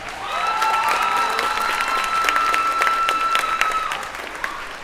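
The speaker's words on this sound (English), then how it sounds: "give Drake High School a round of applause." Applause for Drake High School at a school orchestra spring concert, an even spread of clapping from the audience, with sustained musical tones ringing underneath before the clapping thins out at the end.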